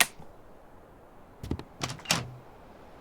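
A locked door in the horror video game Static Dread rattles in three short bursts of clattering knocks near the middle, heard against a low ambient hum with a brief noise at the start.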